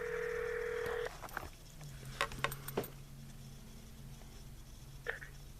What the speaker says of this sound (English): this is the actual watch itself dialing the number